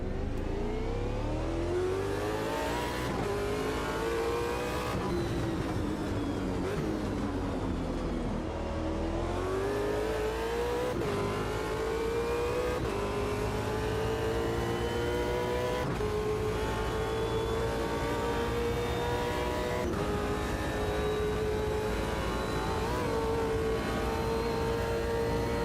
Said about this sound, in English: But the whine you're hearing here, it's either supercharged or they're going for something.